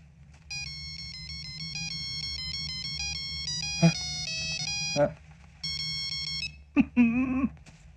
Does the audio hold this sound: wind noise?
no